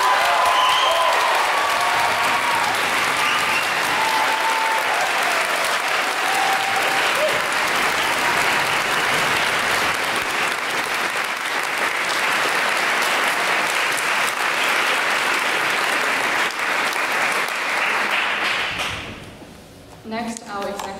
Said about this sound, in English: Can you give them all a round of applause?